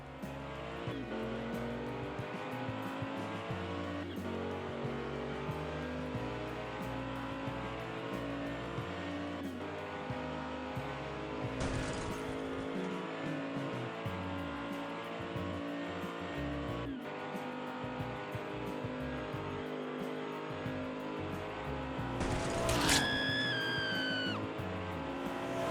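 Hot Wheels toy cars, an Alfa Romeo and a Dodge Charger, rolling down a race track in an elimination race, with a steady whirring rumble throughout and a sharper squealing burst near the end.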